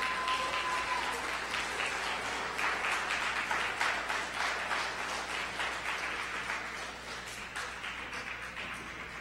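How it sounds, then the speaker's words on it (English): A standing audience at an awards luncheon applauds John Mitchell, Chief of Staff of Rainbow Push, with a full, even round of clapping that holds steady and slowly eases off, a brief tone sounding near the start. "I want everyone to stand and give a round of applause to Mr. John Mitchell, the Chief of Staff of Rainbow Push"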